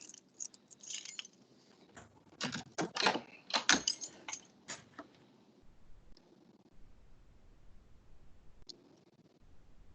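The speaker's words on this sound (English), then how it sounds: "Hold on, I gotta get my keys." A bunch of keys jangles and clinks close by in short bursts, busiest in the middle, then fades to quiet with a faint click near the end.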